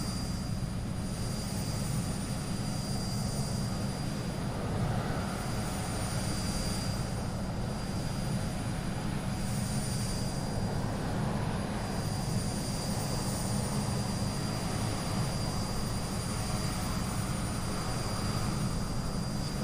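Aerosoft Twin Otter twin-turboprop in Microsoft Flight Simulator landing at Barra, a steady loud engine and propeller drone with a high whine that holds evenly throughout with no talk.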